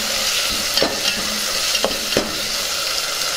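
Tomato pieces go into a pan already holding turmeric and curry leaves for mixed vegetable rice, setting off a close, continuous sizzle with a few sharp scraping stirs of the spoon and no talking.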